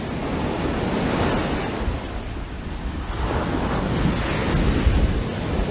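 Powerful ocean surf rolls onto a beach at Crane Beach, a steady broadband roar with surges of breaking waves and some wind buffeting, with no voices.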